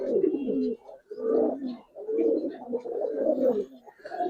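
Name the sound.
Giribaz pigeons cooing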